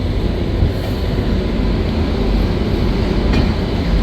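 A Sealdah Duronto Express rolls into platform 9 at Sealdah station, a loud, steady rumble of wheels and carriages running continuously without pause.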